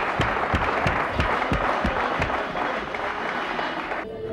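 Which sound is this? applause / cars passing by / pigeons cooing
applause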